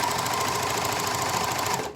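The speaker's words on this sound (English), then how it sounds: "My overlock is a bit noisy." An overlock machine sewing the side seam of a garment, a loud, steady, fast mechanical whir running unbroken for about two seconds before stopping abruptly.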